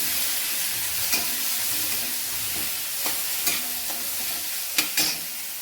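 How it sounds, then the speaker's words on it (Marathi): Grated radish and lentils being stirred into hot tempering in a pan: a soft continuous sizzle under several sharp scrapes and clicks of the spoon against the pan, close and fairly quiet, no talking. "खीस आणि डाळ हे अशा पद्धतीने लगेच मिक्स करून घ्यायचं आहे"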